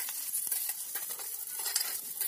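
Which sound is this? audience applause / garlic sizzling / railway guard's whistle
garlic sizzling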